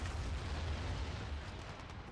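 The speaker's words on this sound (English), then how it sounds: "Artillery going to land again" Artillery shells landing in Battlefield 2 during a Conquest match at a factory map, a faint, distant rumbling roar of explosions with low booming that rolls on for about two seconds, no voices over it.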